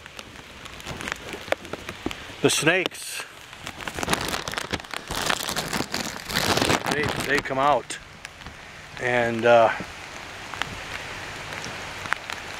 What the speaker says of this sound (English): when it rains like this